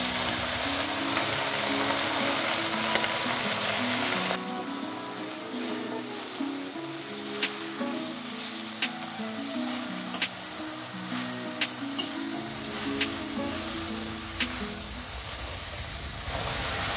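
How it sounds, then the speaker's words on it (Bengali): Washed wet greens sizzle and crackle in a pan over onion and garlic fried brown, a steady frying hiss with small sharp pops throughout, no talking. "এই যে ধুয়ে রাখা জল ধরা শাকটা দিয়ে দিচ্ছি।"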